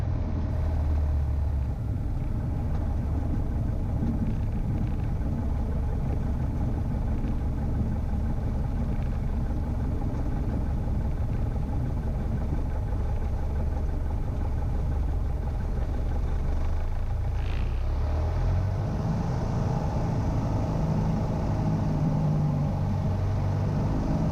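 A Piper PA28 Warrior 161 light aircraft's engine drones steadily at Denham airfield, a continuous mid-level rumble heard from inside the cabin that shifts slightly in pitch toward the end.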